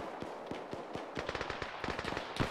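Rapid gunfire in the ArmA3 military video game, bursts of sharp cracking shots, sparse single reports first and then quick automatic strings, moderately loud and with no talking.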